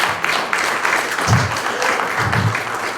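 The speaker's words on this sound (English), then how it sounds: "I'd like to give them a round of applause because I think they have been doing a great job." Audience applause at a community meeting about a flash flood in Ute Pass, a loud, steady patter of clapping throughout, with a few louder claps standing out.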